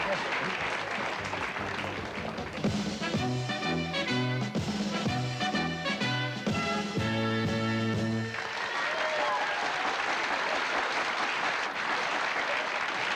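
A studio audience at a 1995 Greek TV game show applauds a winner who has just won a Moulinex microwave oven, with sustained clapping while a bright musical jingle plays over the middle stretch before the applause carries on alone.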